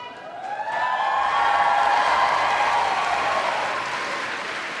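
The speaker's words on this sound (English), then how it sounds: "I'm gonna let the applause finish because I love seeing people get their flowers" Convention audience at Star Wars Celebration 2023 applauding in a large hall, a sustained dense wash of clapping that swells and holds steady for several seconds without speech.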